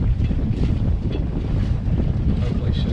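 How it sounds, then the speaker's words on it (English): Wind gusts buffeting a sailboat anchored overnight at Meyers Hole, Barnegat Light, producing a steady, loud low roar with rushing noise and no talking. "The wind now is out of the north and it's kind of gusting from the northeast and the northwest"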